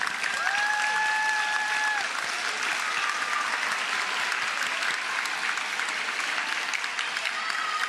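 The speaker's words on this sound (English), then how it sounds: "clap for your families." Eighth-grade students at a school promotion ceremony stand and applaud their families, a sustained wave of crowd clapping filling the hall for several seconds.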